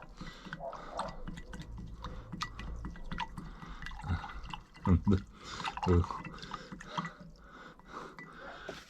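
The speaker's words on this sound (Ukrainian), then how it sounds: "негашене вапно і також гарно розмішуємо. Розмішуємо." Quicklime being stirred into water for a blue copper-sulfate spray mixture for spring orchard spraying: soft liquid swishing and dripping, with a few louder sloshing knocks in the middle, close by.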